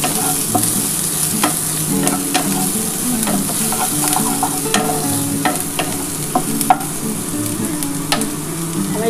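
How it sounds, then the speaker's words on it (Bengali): Onion and garlic fry in hot oil in a pan, a loud continuous sizzle close by with frequent stirring clicks and scrapes, no voices. "আমার একটু ভাজা ভাজা হোক, তারপর আমি কলমি শাকটা দেবো।"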